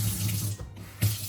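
Cold tap water runs steadily into a kitchen sink while vegetables are rinsed, a close hiss that briefly drops out and then returns with a splash.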